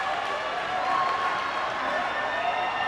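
A basketball crowd at a 2019 Bahamas high school nationals game between Doris Johnson and Tabernacle roars and applauds in a loud, steady wash of cheering that holds for the full stretch without letup.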